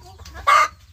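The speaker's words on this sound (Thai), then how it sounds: "นั่นตัวเมียกำลังไข่อยู" A Light Sussex hen clucks while laying an egg: one loud, sharp squawk rising out of quiet background, close and alone.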